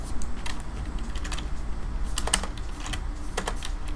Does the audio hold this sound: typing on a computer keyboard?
yes